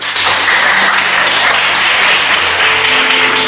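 Loud, close applause from a church congregation at a farewell service in Indonesia, a dense continuous patter of clapping with low background hum.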